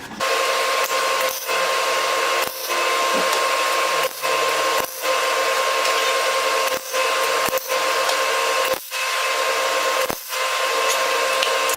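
A Dremel rotary tool with a wire brush attachment scours metal, a loud high-pitched whine in repeated bursts broken by brief pauses and dips in speed as the brush is lifted and pressed again.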